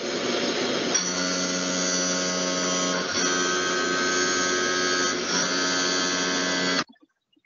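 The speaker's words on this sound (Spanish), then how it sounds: "quiero que escuchen cómo utilizamos el cortador largo para un desbaste" A long milling cutter roughing metal on a machining center gives off a steady, loud high-pitched whine with a constant hum beneath it, running without a break for about seven seconds and then stopping abruptly, with no voices.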